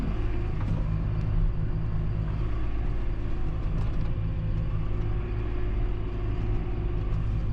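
A six-cylinder farm tractor drives along at a steady pace, its engine giving a constant close, droning rumble with no talking over it.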